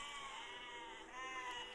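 Sheep in the game Besiege bleat in a sustained, wavering chorus of overlapping cries, fairly close and steady for nearly two seconds with no talk over them.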